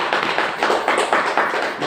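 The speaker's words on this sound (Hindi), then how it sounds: "मैं चाहता हूँ सभी लोगों के लिए एक बार जोरदार ताली होना चाहिए" An audience applauds the attendees at an IMC business gathering, a short burst of fairly loud rhythmic clapping from a room of people.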